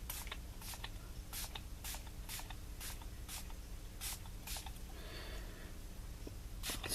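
Repeated short sprays of ink from a nozzle, about a dozen quick bursts in an irregular rhythm, close and fairly loud over a low steady hum.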